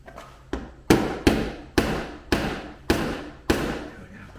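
Seven sharp hammer strikes while fitting fender flares and mud guards on a 2022 Polaris General XP 1000, spaced at a slightly uneven rhythm, each a loud close impact with a short ringing decay and no talking.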